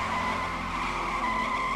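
A car skidding after losing control at high speed, a steady, continuous tire squeal with a tonal whine that holds evenly throughout, no one speaking.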